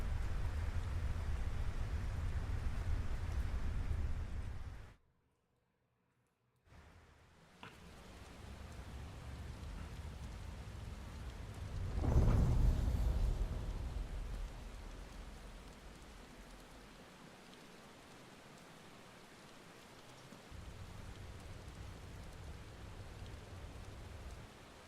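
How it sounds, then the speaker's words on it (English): Steady hiss of rain in Final Fantasy XVI, quiet and continuous, broken by a brief silent gap, with a swelling rumble midway that could be distant thunder, no voices. "It's raining."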